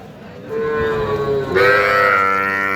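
A Friesian heifer calf moos at a busy cattle market, one long drawn-out call that rises and strengthens partway through, close and loud over a low murmur of crowd noise.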